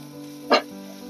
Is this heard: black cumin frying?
yes